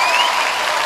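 Loud, dense applause from an ice show audience in Shanghai for pairs figure skaters Pang Qing and Tong Jian, a brief continuous roar of clapping with a faint whistle or cheer on top.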